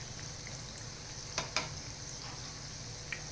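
Corn bhaji fritters fry in oil over a medium flame, a quiet, steady close sizzle with a few soft clicks, and no talking.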